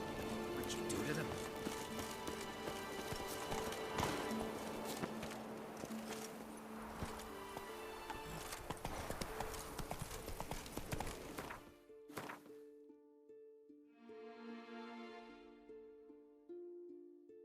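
Hooves of Roach, the horse in the video game The Witcher 3, clop in a steady gallop under game music and occasional talk, then cut off, leaving the music alone.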